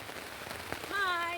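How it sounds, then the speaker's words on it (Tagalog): Heavy rain falls steadily outdoors near goats, a dense, close hiss of drops on surfaces. A brief voice rises over the end. "Ngumpay siya bisan ulan kaayo. Uwan na guys."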